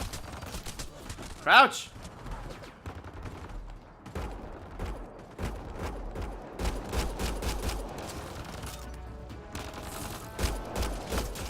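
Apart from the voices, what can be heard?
gunfire in the video game Mass Effect: Andromeda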